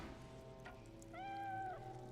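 Undead cat in the Divinity Original Sin 2 video game lets out a single clear drawn-out meow over a low ambient game soundtrack, fairly close and mid-loud.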